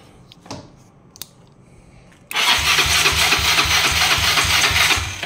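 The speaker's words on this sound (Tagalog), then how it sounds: "Okay, so ayaw niya pong mag-start." A Yamaha Mio Sporty scooter that will not start is cranked after quiet clicks, its starter churning in a loud, regular pulsing rhythm for about three seconds without the engine catching.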